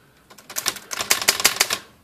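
Rapid typing on an Underwood Touchmaster 5 manual typewriter, a close, loud burst of sharp key strikes that quickens into a dense clatter before stopping.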